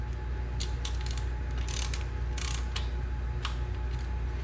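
A ratchet clicks in short bursts as bolts on an R32 GTR engine long block are tightened in sequence. The pauses are uneven, and a steady mechanical hum sits underneath.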